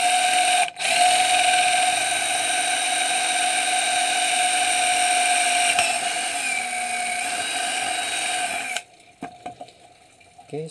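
A power drill whines steadily at high speed for several seconds while boring a hole, its pitch dipping briefly under load, then it stops and quiet handling noises follow.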